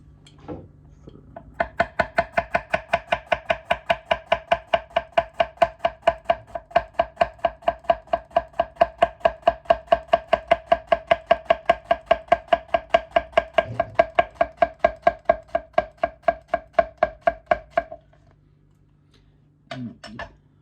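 A Sukenari HAP40 kiritsuki knife cuts hard squash into rounds with a long, steady run of crisp, evenly spaced chops on a board, close and alone, then stops and adds a couple of final cuts.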